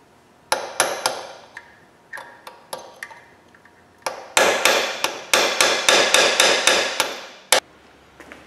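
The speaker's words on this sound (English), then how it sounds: "I ended up having to drill it, heating it, and then tapping it out." Sharp hammer blows strike metal, tapping out a drilled, heated pin on a 1929 AV8 coupe, a few spaced taps at first, then a quicker run of evenly timed strikes, close and clear.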